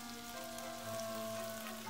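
Ramen noodles with hot dog meat fry in a pan with a soft, steady sizzle, faint and continuous throughout, with no talking.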